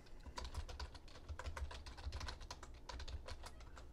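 Steady, fast typing on a computer keyboard, with a continuous patter of soft key clicks at close range and low volume, no talking.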